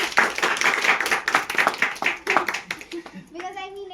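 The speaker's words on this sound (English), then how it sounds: "a big round of applause for them" An audience at an Oxford University Hindu Society talk claps briskly for two volunteers for about three seconds, and then a voice starts speaking as the applause stops.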